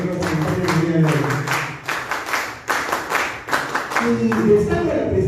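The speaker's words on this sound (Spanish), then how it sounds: "un aplauso para ellos, para los compañeros jóvenes del grupo" A group of people clapping in applause for young group members at a social gathering, steady, close clapping throughout with a voice speaking over it.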